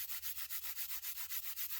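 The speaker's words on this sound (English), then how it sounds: "grind some charcoal" Charcoal for drawing is ground against a rough surface in a steady, rapid back-and-forth rhythm, about eight even scraping strokes per second. The gritty rasp stays close and fairly quiet with no voices.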